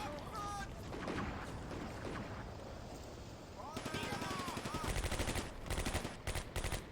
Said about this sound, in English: Those guys are laying down suppression fire.